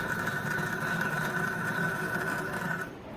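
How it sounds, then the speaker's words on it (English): The fuel pump on a 2009 Yamaha YFZ450R ATV runs with an uneven, bubbly steady whine heard close with the cap off, cutting off near the end. "You can hear the fuel pump"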